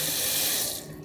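Water runs steadily from a tap at good pressure in a bathroom with a ceramic vanity, a continuous close hiss that tapers off near the end.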